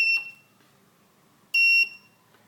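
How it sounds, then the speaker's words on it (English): Two loud, shrill electronic beeps from an automatic transistor buzzer circuit built on a 555 timer, separated by about a second and a half of quiet, each sounding piercing and steady. "This is an automatic buzzer circuit."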